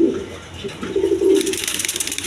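Pigeons, a pair of white birds in a small cage, coo in repeated low throaty phrases, close and clear, with a brighter flutter of movement toward the end.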